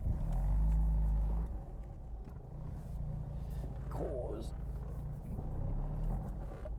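A Mazda FD RX7 drives along with a loud low engine drone that surges at the start and then holds a steady hum beneath conversation inside the car.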